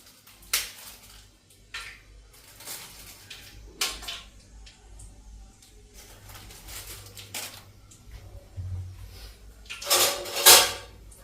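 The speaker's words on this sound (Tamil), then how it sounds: "கழுவி வச்ச கரண்டி எடுத்து லைட்டாக கிண்டி விட்டுக்கணும்" A ladle stirs spices in a cooking pot, giving a series of irregular metallic scrapes and clanks, close and fairly loud, that turn sharper and brighter toward the end.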